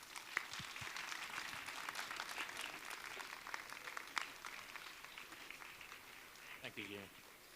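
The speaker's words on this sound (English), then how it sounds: "Give them a massive round of applause one more time, please." An audience gives a conference panel on AI and the future of work a sustained round of applause, steady and fairly distant, with brief voices near the end.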